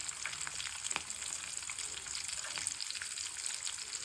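Tempering sizzles steadily in hot oil as turmeric is added for a lemon tamarind-style rice dish, with a continuous crackling hiss and a few sharper pops, fairly close and alone without talk.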